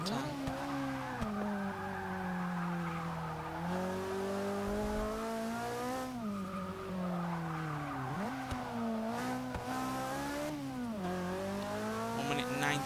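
A 2015 Volvo S60 Polestar lapping a track in Forza 6, its engine rising and falling through gear changes while tires squeal and skid through corners, loud and close.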